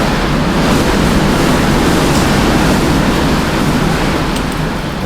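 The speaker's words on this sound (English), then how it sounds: "All right, Wind, you can stop." Steady outdoor wind buffets the microphone with a loud, continuous low rumble and hiss that barely changes throughout.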